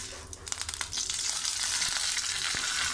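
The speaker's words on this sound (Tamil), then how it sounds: "எண்ணெய் சூடானதும் நம்ம தாளிக்கு எடுத்து வச்சுருக்க கடுகு, அதுக்கப்புறம் சீரகம், வெந்தயம், கருவேப்பிலை, காஞ்ச மிளகாய் எல்லாத்தையும் இதில் சேர்த்துடலாம்" Mustard seeds, cumin, fenugreek, curry leaves and dried chillies hit hot oil for a tomato rasam tempering, crackling with a few sharp pops before settling into a steady close sizzle.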